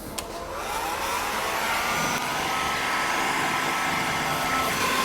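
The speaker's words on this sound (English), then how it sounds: "careful with the heat gun then" Heat gun blowing on the rear bumper of a Jaguar, a steady close roaring whoosh that holds unbroken for the whole stretch after a quick start.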